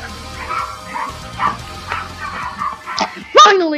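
Many tiny puppies barking in a video game: a steady chorus of small, high yips and bow-wows with whimpers, building to a louder burst of yapping at the end.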